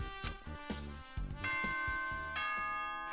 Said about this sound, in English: That bell means the investigation is done.